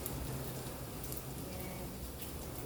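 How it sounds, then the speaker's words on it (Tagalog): Heavy rain falls steadily outside a home kitchen during stir-frying of pork fried rice, a dense, even wash of noise that stays constant and moderately loud throughout, with no voices. "Sobrang lakas ng ulan sa labas"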